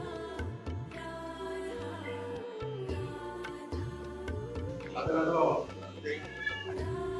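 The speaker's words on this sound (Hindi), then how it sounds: "ये बाबा के साथ में यहाँ पर बिल्ली भी रहती हैं" A cat living with a holy man at Shyam Dhak in Braj meows a few times in short, clear calls, with a voice talking over and between them.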